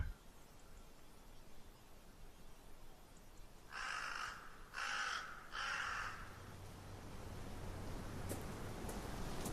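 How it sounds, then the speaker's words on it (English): Crows in The Last Door video game give three harsh caws in quick succession over a faint hiss of ambient noise, then a quiet low hum lingers. "A murder of crows is eagerly eating something."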